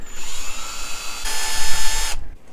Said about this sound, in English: trying to drill